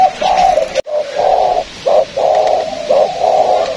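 A spotted dove kept at a bird keeper's home in U Minh gives clear, close cooing calls, several rolling phrases in a row with short pauses and no talk.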